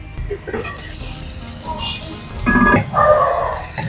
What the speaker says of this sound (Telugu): ఇప్పుడు ఈ దొండకాయ కొంచెం ఫ్రై చేసుకోవాలి